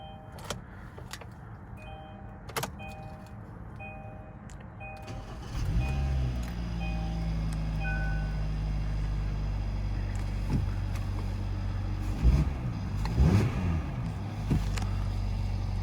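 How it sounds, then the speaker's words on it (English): A 2018 Kia Optima LX starts after a few soft clicks and chimes from the key and dash, the engine catching and settling into a steady, smooth idle nearby with a couple of small bumps. "To start the Optima, all you have to do,"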